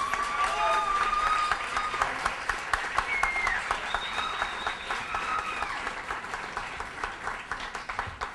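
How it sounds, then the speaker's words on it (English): Audience at an awards event for diversity breaks into warm applause, a dense steady wash of clapping that slowly thins out, with scattered cheers and voices mixed in. "Please, warm round of applause for Carlos Ramirez."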